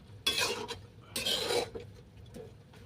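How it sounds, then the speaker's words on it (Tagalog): A spoon scrapes and clinks through chicken adobo with salted pechay greens in a pot, two close scraping strokes followed by a faint softer touch, with no voices. "Haluin ko ulit."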